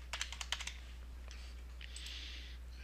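A burst of quick keystrokes on a computer keyboard while typing C# code, followed by softer scattered clicks over a steady low hum.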